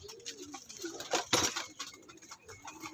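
Soft, low pigeon coos come from nearby birds at a pigeon loft, mixed with rustling, fluttering and a brief louder scuffle in the middle, all fairly faint.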